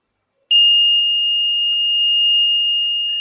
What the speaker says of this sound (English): Once there is no water, the buzzer should give a sound.